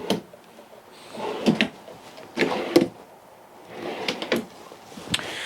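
Inside a 2019 Northwood Nash 29 S travel trailer, drawers and cabinets open and close in a series of close, hollow wooden thumps and sliding clacks, several in irregular succession with quiet gaps between.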